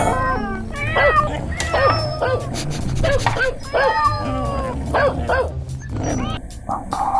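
High-pitched yapping barks and squeaky whines repeat over busy background noise, sounding like a small electronic toy dog.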